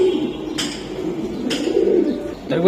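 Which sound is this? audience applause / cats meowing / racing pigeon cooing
racing pigeon cooing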